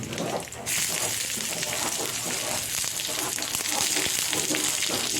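Onions frying in oil for Odia-style masala bara sizzle in a loud, dense, continuous hiss that rises sharply after a brief quieter start and then holds steady up close.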